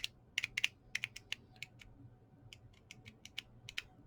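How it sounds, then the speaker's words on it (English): Arcade push button, newest 2019 version, clicked repeatedly by hand, its plunger striking the bottom of the plastic housing: a string of sharp, light plastic clicks in irregular bursts, close up, with no talking. "What you actually hear is the plunger hitting the bottom of the plastic."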